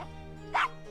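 A dog in the point-and-click adventure game Gabriel Knight: Sins of the Fathers gives a single short bark over a steady low background hum.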